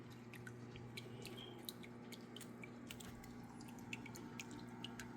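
Cooling water from a still's reflux column trickles back into a bucket in a faint, sparse patter of small drips over a low steady hum.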